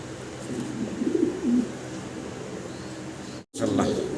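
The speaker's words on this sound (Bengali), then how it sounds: "অসাধারণ এক জোড়া আমরা পটার কবুতর দেখতে পারতাছি" A pair of pouter pigeons coo in low, soft bursts close by, with a steady murmur of background noise and voices throughout.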